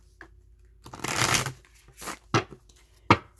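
A Thoth tarot card deck being shuffled, with several quick riffling bursts and sharp card flicks close up in a quiet room.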